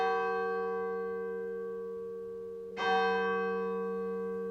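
A house alarm bell rings alone, its long resonant tone decaying slowly before a second clear strike renews the ringing.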